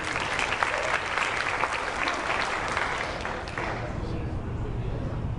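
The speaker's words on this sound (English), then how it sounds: "Everybody give Libby a big round of applause." A crowd at a community gathering applauds Libby with a big round of clapping, a steady wash of hands throughout with faint murmuring underneath, slowly thinning toward the end.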